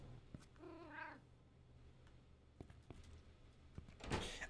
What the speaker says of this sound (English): I'm hearing the cat in this room.